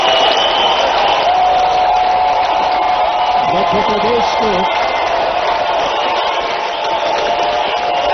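A crowd applauds loudly and steadily at the launch of a sports campaign in Madhya Pradesh, while a voice speaks briefly over the continuous clapping.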